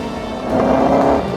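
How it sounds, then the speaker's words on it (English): Mercedes-Benz 300 SLR 722 with a 3-litre straight-8 engine, a brief, loud and steady roar that swells slightly partway through, heard in London with no talk over it. "Somewhere that's never echoed to the sound of its thunderous 3-litre straight-8 engine."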